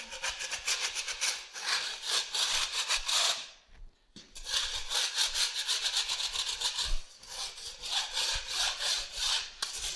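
A hand scraper is dragged across a bungalow wall to clear loose material before skim coating, producing rapid, repeated raspy strokes up close with a brief pause midway, and no talking.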